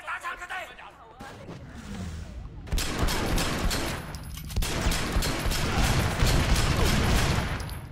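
Rapid gunfire and fusillade bursts from the open-world action game Sleeping Dogs, dense and continuous through most of the stretch, with game effects layered underneath.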